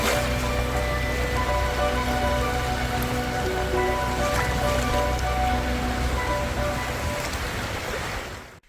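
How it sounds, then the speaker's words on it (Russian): Light summer rain falls steadily at a countryside cottage in Estonia, forming a continuous soft hiss that fades out at the very end. "Грибной такой дождь."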